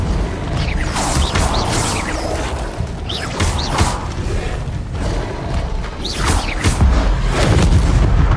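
Incendio fire spell cast in Hogwarts Legacy: several loud whooshing, booming bursts arrive in waves over the stretch, layered with clanking mechanical game sounds and no speech.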